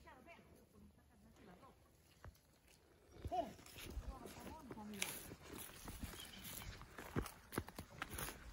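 A horse walks on a small farm while the soil is being ploughed, with scattered hoof clops and footsteps growing louder after a quiet start, under people talking and with animals nearby.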